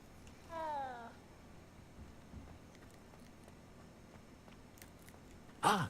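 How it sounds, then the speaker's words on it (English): A cat gives a short, rising meow while being stroked in Hogwarts Legacy; a soft, close single call over a quiet background, followed later by a brief second higher cry. "I'm stroking all the cats in case there's an achievement for it."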